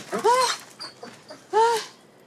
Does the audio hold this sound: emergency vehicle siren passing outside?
no